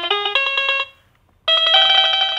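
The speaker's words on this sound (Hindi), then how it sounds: "ये है एक बैंजो की आवाज।" A budget 37-key toy keyboard piano set to its banjo voice plays two quick, bright, twangy runs of plucked notes, loud and clear, with a brief silent gap between them.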